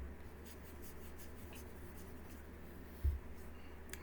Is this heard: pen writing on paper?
yes